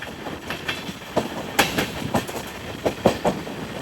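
An Intercity Express train rolls between Bengaluru and Ernakulam, heard from inside a crowded general-class coach: a continuous rumble of wheels with irregular clickety-clack rail joints and knocks, fairly steady and close, with no voices.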